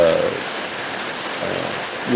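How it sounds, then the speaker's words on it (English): Steady rain drums loudly and evenly on a steel sheeting awning overhead, a dense, close hiss with no other sounds standing out. "We're just sitting here listening to the rain fall"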